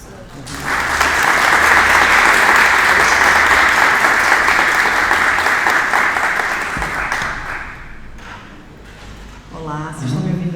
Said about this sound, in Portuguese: Uma salva de palmas para a professora.